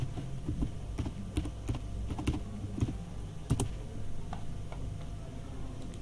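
A computer keyboard is tapped in quick, uneven bursts of crisp clicks while a password is entered. The keystrokes sound close and moderately quiet, with no one speaking.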